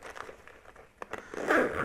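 The poorly made zipper on a cheap single-compartment bag is pulled in quick rasping strokes, a short tug then a longer, louder zip near the end, close up with no talking.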